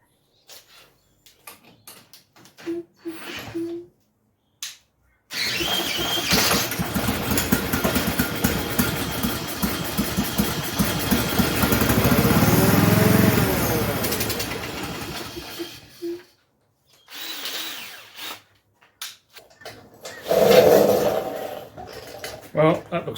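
Small engine spun over with a drill, then running roughly for about ten seconds with a steady buzzing drone that swells and cuts out, framed by short clanks and handling noises, and speech around it.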